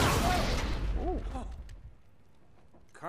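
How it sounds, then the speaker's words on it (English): A big explosion in Uncharted 2: Among Thieves bursts loud at the start and fades into a long rumbling decay, with a brief voice heard partway through. "Big explosion, boy."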